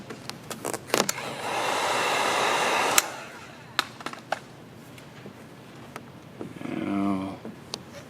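A heat gun blows hot air over vinyl hockey-stripe graphics on a Ford Bronco, a steady close whooshing blast for about two seconds, then cutting out, with handling clicks and a shorter burst of hot air near the end.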